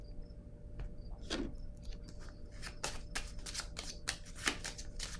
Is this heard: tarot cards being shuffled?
yes